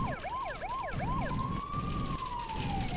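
A police car siren in Grand Theft Auto 2 whoops in quick repeated yelps, then settles into one long rising and falling wail over a constant rumble of traffic.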